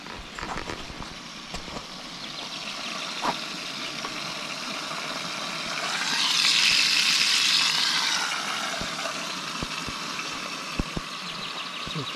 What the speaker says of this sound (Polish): Kiełbaska się smaży,